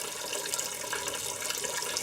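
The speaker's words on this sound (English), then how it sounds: "I'm still draining the oil." Engine oil draining from a Cummins-powered Ford truck makes a steady, continuous liquid rush, close and fairly loud, like a running tap, without pause and with no talk.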